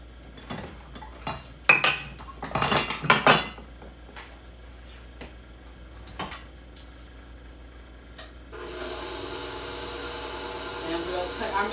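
Spatula scraping cake batter from a mixing bowl, a run of close clinks, taps and scrapes against the bowl in the first few seconds, then quieter, followed by a steady whir later on.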